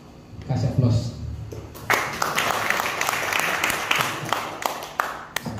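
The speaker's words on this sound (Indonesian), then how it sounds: "Kasih aplaus." Audience applause at a church synod meeting in Sukabumi after a new officer is announced, a crowd clapping steadily for several seconds with voices talking over it in a reverberant hall.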